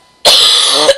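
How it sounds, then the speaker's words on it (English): A single harsh, drawn-out cough from a video game cutscene, loud and close, lasting under a second with no talking around it. "Damn coughs screwing up the tender moments"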